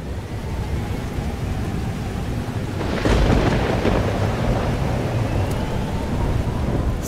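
Heavy thunderstorm in the game Life is Strange: Double Exposure, with dense steady rain and a loud rolling thunder crack swelling midway, continuous throughout.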